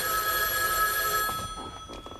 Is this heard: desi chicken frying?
no